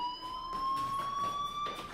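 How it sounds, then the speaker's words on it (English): A school fire alarm in the video game Life is Strange sounds as a steady, shrill electronic tone with bright overtones, sustained unbroken at moderate volume for about two seconds. "Hey, do you hear that fire alarm?"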